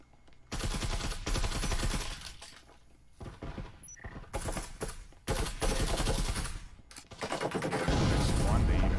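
Gunfire in the VR shooter Breachers comes in dense rapid bursts and sustained automatic volleys, loud and crackling, broken by short pauses.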